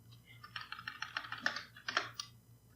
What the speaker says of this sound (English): My typing speed is horrible